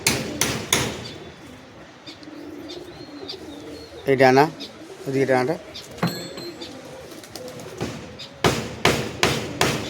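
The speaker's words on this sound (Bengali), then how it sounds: "এদিকে দাদার নতুন একটা লফট তৈরি হচ্ছে, এই যে এখানে মিস্ত্রিরা কাজ করছে, তাই আওয়াজ আসছে।" Workers building a new pigeon loft hammer in sharp, rapid bursts at the start and the end, while someone speaks close by in the middle.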